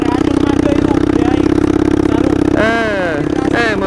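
A moped engine runs steadily during a break-in ride near a forest with the clutch pulled, a loud continuous hum under talking voices, with a brief rise in pitch near the end.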